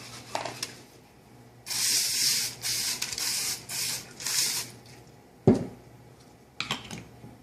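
Cooking spray hisses into a medium pot lined with parchment paper in three quick bursts, the longest lasting about a second, close and fairly loud, followed by light clatter and rustling of the pot and paper.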